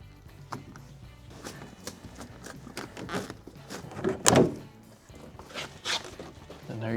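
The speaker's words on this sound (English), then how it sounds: "First thing we gotta do is get this door panel up" Plastic clicks, thumps and scraping knocks come up close as a car door panel is pried loose, with one louder thunk midway.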